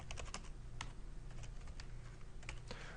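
Quick, quiet keystrokes tap on a computer keyboard as a command is entered, in irregular bursts of clicks heard up close.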